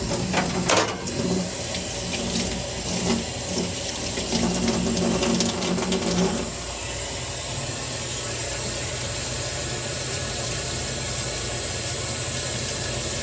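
Tap water runs steadily into a sink as a utensil is washed in soapy water, with splashing and clatter in the first half, then a smoother continuous flow.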